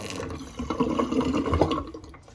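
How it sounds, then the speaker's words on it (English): Water drains and gurgles out of a bathroom sink full of shaving whiskers, a soft close swirl that swells in the middle and then fades. "Going to empty the old Sea Monster sink."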